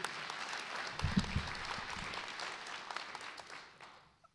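Applause from an audience at a sheriff's office promotion awards ceremony, honoring Sheriff Gabe Morgan: a dense, steady wash of many hands clapping that holds for several seconds, then tapers off near the end.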